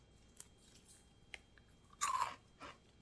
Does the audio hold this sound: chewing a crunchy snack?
yes